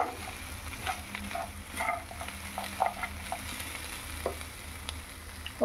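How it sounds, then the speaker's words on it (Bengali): Bori lentil dumplings are stirred into a simmering pot of spinach and dal. Soft scrapes and bubbling come in irregular strokes under a low sizzle, close and fairly quiet, with no voices. "বড়িগুলো দিয়ে একটু নেড়ে চেড়ে"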